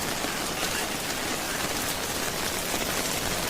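Rain falls steadily outdoors in a dense, even hiss of drops that stays constant throughout, with no voices heard.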